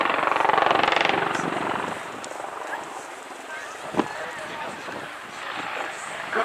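A display helicopter flies aerobatics, including upside-down flight, at the Royal International Air Tattoo at Fairford. Its rotor and engine drone carries steadily from a distance, mixed with wind buffeting the microphone, and one sharp thump sounds midway.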